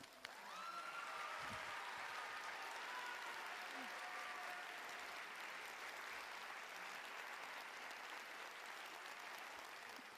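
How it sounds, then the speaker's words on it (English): Audience applause fills the hall at a university nursing recognition ceremony, a sustained, even wash of many hands clapping heard from a distance, with faint cheers and voices rising over it. "at this point, we can clap"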